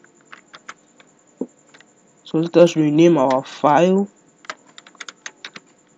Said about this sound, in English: I want you to hit your Control S on your keyboard